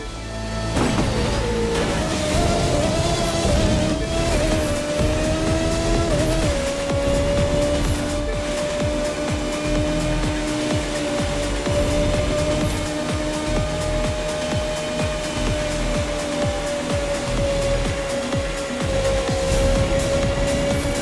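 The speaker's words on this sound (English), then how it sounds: "Open wheel racing in the heart of New York City." Open-wheel race cars roar through New York City streets in the racing video game The Crew 2, a loud, sustained high-revving engine whine that holds steady for the whole stretch with small pitch shifts as they accelerate.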